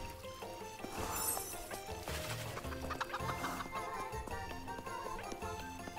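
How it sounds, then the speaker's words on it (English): Chickens clucking in a video game, several birds cackling and clucking in overlapping bursts over a busy game soundscape with light clip-clop footsteps and background music, fairly quiet throughout. "There's chickens everywhere."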